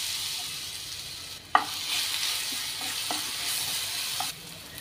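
Chopped banana fries in ghee in a pan, giving a steady bright sizzle with a few soft scraping stirs and one sharper clack, heard close up with no talking.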